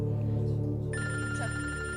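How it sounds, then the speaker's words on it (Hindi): An electronic telephone ringing indoors in a home scene from a TV drama. A continuous, loud, bright warbling ring that shifts to a higher ringing pattern partway through, with no talking. "आपका फोन बज रहा है, मैं लेकर आती हूँ।"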